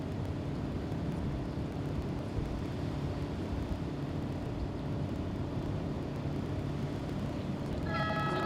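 Powerboat racing engines at a Windsor race round start up and run, giving a steady broad roar with a low drone throughout. A higher, tonal engine whine rises briefly near the end.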